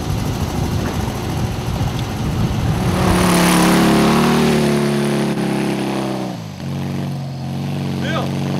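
A car engine revs up and accelerates close by, its rising roar filling the middle of the clip before dropping away, with people talking and shouting around it.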